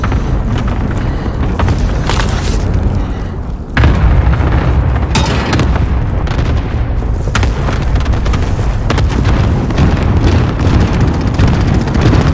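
Loud, continuous explosions and booming blasts from an airstrike in the video game Call of Duty Warzone, with a sharp surge near the four-second mark, then rolling detonations and rumble that keep going throughout.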